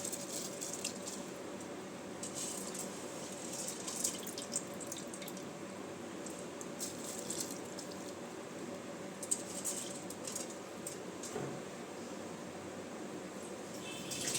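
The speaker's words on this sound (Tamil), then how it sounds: "இப்போ வந்து ஊற வச்சுருக்க பாஸ்மதி ரைஸ் வந்து இதில் ஆட் பண்ணிக்கலாம்." Soaked basmati rice tipped into a pressure-cooker chicken biryani pot with lemon already added, giving a steady wet patter and dripping, sizzling texture with scattered small taps, moderately loud and close, no talking.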